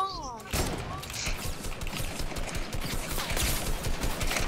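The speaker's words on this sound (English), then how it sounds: "Who's just shooting me off spawn?" Rapid bursts of automatic gunfire rattle through a Fortnite squads match, dense overlapping shots one after another with players talking over the shooting.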